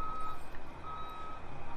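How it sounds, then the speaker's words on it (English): A concrete truck reverses at a basement floor pour, its backup alarm beeping in steady repeated tones over a low engine rumble. "You got the concrete truck right there."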